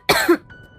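A woman gives one short, sharp cough, close and loud, as cigarette smoke fills a room.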